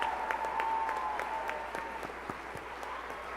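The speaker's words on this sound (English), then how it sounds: "Let's give this entire group a round of applause." An audience at a school district excellence celebration gives a round of applause, with individual claps standing out in a loose, moderately quiet patter that continues throughout.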